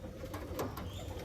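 Andhra pigeon chicks, one black and one kalshira, coo softly inside a loft in a low, steady murmur with no voices over it.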